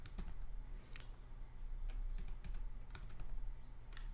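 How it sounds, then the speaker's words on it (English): Quiet keystrokes on a computer keyboard come in short irregular bursts of clicks, fairly close and soft, with brief pauses between runs and no talking over them. "But I'm just going to go ahead and type it in."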